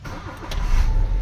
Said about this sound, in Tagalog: Umandar naman yung Honda Civic.